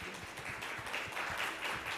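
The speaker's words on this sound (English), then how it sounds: "With a huge round of applause, please welcome Richa Bhushan." Audience at a conference in Dubai applauding to welcome a speaker, a dense, steady spatter of many hands clapping from across the hall, no voices.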